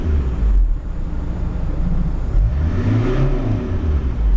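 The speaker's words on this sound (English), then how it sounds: "A couple of revs up and down," A parked van with its handbrake on, engine revved up to about 3000 RPM and back down a couple of times, a steady close rumble rising and falling.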